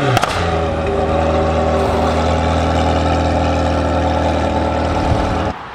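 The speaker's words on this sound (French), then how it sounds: "Je vais vous faire écouter le démarrage en mode track" A McLaren 720S twin-turbo V8 fires up in track mode with a sharp cold-start blip, then settles into a loud, steady, rumbling idle close by until it cuts off abruptly near the end.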